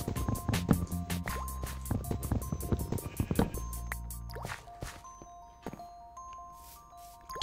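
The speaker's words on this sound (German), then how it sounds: "Tropf." Water drips in modded Minecraft, small isolated drops plinking over background music that thins out toward the end.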